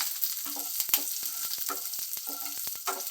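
Byadagi chillies fry in a pan for sambar. Steady hot-oil sizzling runs under light scraping and stirring clicks, close and moderately loud.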